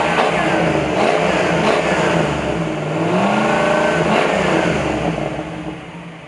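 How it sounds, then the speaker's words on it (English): A 1984 Jeep CJ7 with a 5.0 HO SVO V8 conversion revs loudly up close, the engine note rising and falling through a couple of throttle blips, with no talk over it. "Let's give it a couple of revs and see what she sounds like."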